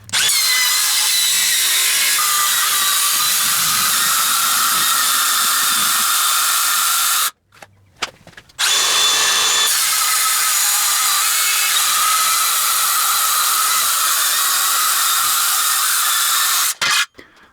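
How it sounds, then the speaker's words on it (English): A metal-cutting band saw works through 3mm thick steel plate with a loud, close, high-pitched grinding whine that runs steadily, breaks off briefly partway through, then resumes until near the end. "The new table is being cut from 3mm thick steel plate"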